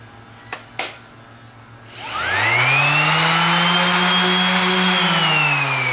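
A power sander fitted with 320 grit spins up on a damaged surfboard tail, a couple of light taps first, then a rising whir that settles into a loud, steady drone.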